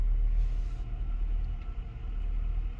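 A 2006 Lincoln Town Car backs away in reverse, its engine a steady, close, low rumble with no other sounds.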